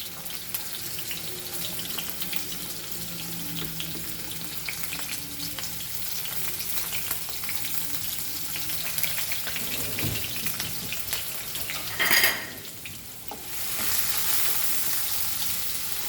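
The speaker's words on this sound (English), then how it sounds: "Now we'll fry our onion to this." Chopped onion fries in about a tablespoon of hot oil for a Goan fish curry, giving a steady close sizzle throughout with a brief louder crackling surge late on.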